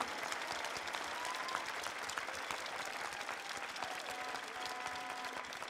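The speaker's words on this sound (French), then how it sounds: "Et on l'applaudit très fort." Steady audience applause fills a prize-giving ceremony at the Pastry World Cup 2015, a dense continuous wash of clapping from a large crowd heard at moderate distance.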